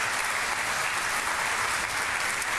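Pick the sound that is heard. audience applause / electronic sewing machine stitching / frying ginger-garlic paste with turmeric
audience applause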